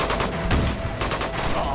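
Gunfire in the video game Uncharted 2, set in snowy ruins, comes as a dense, loud fusillade of rapid automatic shots that continues without break through the short moment.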